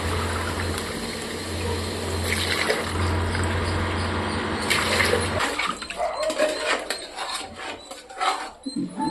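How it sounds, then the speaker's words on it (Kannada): Water pours steadily into a cooking pot for chicken biryani, a continuous splashing gush with a low hum beneath that stops midway, leaving scattered clatter and trickles; no voices. "ಅದಕ್ಕೆ 1-2 ಲೋಟ ನೀರು ಹಾಕೊಳ್ಳೋಣ."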